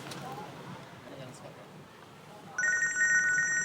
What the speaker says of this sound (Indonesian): hanya telepon